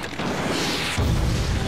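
A loud explosion strikes a helicopter in GoldenEye 007 Reloaded, a sudden deep boom that swells near the end of a noisy burst of game sound.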